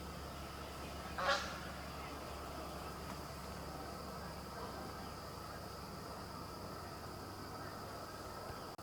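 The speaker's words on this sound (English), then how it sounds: "Geese are starting to head out." A single brief goose honk rings out at a distance at dusk in a forest, heard once over a steady low outdoor hum with no talking.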